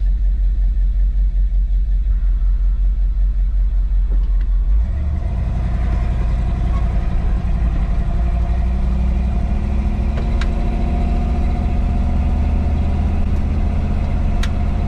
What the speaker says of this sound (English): I'm gonna take the truck up the road here